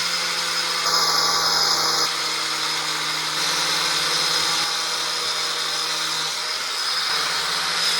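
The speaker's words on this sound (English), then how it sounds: "I'm going to clean right up in here with the ball gouge" A motorized ball gouge grinds into driftwood, cleaning out a hollow in a steady buzzing whir with a constant hum underneath and a brief higher whine near the start.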